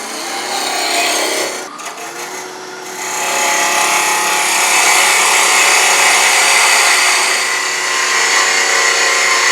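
Walnut box spinning on a woodturning lathe as a gouge cuts, a loud continuous hissing scrape that breaks off briefly and then resumes steadily, with no speech.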